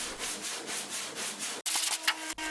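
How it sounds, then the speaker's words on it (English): Sandpaper rubs over filler on a boat hull outdoors in steady back-and-forth strokes, close and fairly loud, with a brief pause partway through before the scraping resumes. "What I have been filling needs to be sanded back, and that's done outside."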